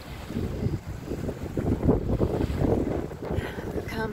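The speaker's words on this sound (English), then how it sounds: "And now the wind picks up, right?" Wind blows hard outdoors beside open water, a steady rushing roar buffeting the microphone in gusts, with faint low lapping underneath.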